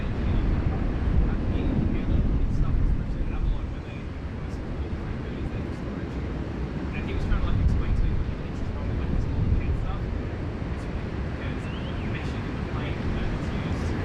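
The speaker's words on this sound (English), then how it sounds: "here she comes, folks, the Air New Zealand flight 1101 from Auckland." Air New Zealand airliner, flight 1101 from Auckland, arriving at Sydney Airport: a long, broad jet rumble swelling and easing over about fourteen seconds, heard from a distance with wind noise and someone talking over it.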